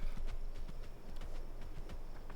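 Horse hooves clip-clop in the video game Palia, a quick steady run of close, even hoof beats over a constant background wash of game sound.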